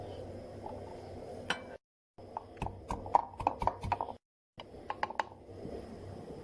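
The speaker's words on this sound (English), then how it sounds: "This is garlic I'm preparing. I like fresh garlic" Fresh garlic being chopped with a knife on a board, a series of close, crisp taps in short bursts separated by brief pauses, over a low background hum.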